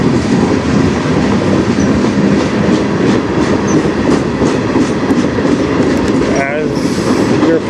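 A CN freight train passes on the Strathroy Subdivision, rolling loud and close with steady wheel clatter and rumble, brief squeals near the end, and faint speech underneath.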